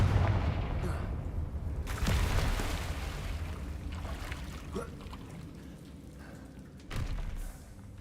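A Confringo blasting spell cast in the Hogwarts Legacy game lands as two heavy, thumping bursts, a few seconds apart, over a steady low rumble.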